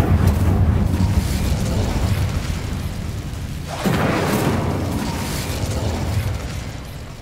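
An Incendio fire spell cast in the Hogwarts Legacy video game: a low rumbling background swells into a fiery burst with a whooshing flare midway, then slowly fades.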